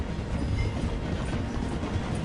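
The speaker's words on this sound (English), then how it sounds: "The train is slowing down to go through the station." Train in a video game rumbles loudly and continuously as it slows through a station, with a dense clattering roar of wheels on rails and no voices.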